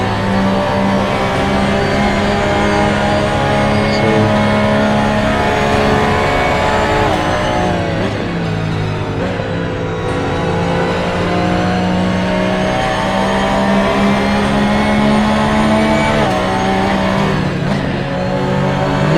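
Race car engine in a Nürburgring Nordschleife racing game, loud and continuous, with the pitch climbing and dropping through gear shifts and a dip around the middle as it downshifts, then pulling hard again.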